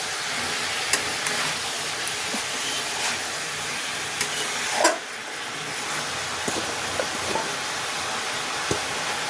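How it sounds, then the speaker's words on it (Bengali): Water lily stems sizzle and hiss steadily as they fry in a pan, with occasional scrapes and clinks of stirring over a continuous broadband frying noise, no talking. "অল্প অল্প দেব আর নেড়ে নেব।"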